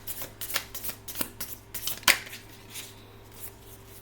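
Tarot cards shuffled by hand in a series of crisp riffling bursts, with one sharper snap near the middle, close and fairly quiet, with no voices.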